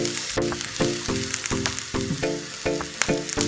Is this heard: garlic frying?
yes